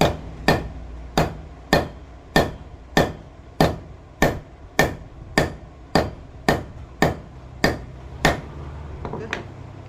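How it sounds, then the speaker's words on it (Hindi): A hammer taps a slotted impeller into place on a water pump motor: about fifteen crisp, evenly spaced metallic knocks roughly two-thirds of a second apart, close up and alone. "तो कुछ इस तरह से इसको हम रखेंगे, इसको हम ठोक देंगे।"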